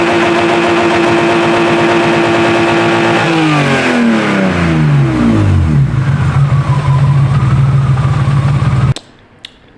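A car engine revs hard in a garage, a running fault persisting despite new spark plugs and a swapped coil. It holds a loud, steady high rev, then winds down smoothly to a lower idle before cutting off abruptly.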